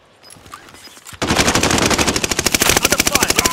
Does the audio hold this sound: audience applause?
no